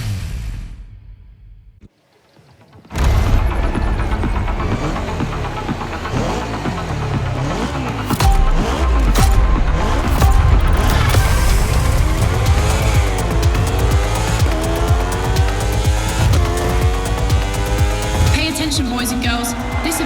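Racing engine roaring in The Crew Motorfest during a Red Bull Speed Clash time attack, a short quiet gap then a loud sustained drone with rising and falling revs, gear shifts and tire squeal throughout.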